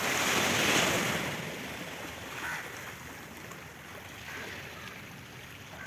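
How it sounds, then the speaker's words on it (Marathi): Sea waves surging and breaking against the shore near Chaitya Bhoomi in Mumbai, a continuous broad wash of surf with gentle swells, fairly faint, with wind noise on the microphone and no voices. "कशी लाटा येते त्या आहे का, त्या तिकडून तिथं येऊन धडकत येते."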